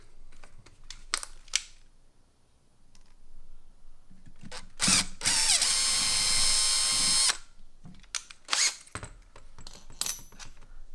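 A power drill fitted with a number 21 bit boring through a part for a lung model, one steady high whining burst of a couple of seconds, with clicks and handling knocks before and after.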